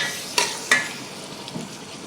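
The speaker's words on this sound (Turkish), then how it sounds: "karabiber, ve salçamızı ekliyoruz. Kavurmaya devam ediyoruz." Onions being sautéed in a pan with cumin, black pepper and tomato paste, a steady low sizzle broken by two sharp scraping stirs of a spoon early on and a softer clink later, no talking.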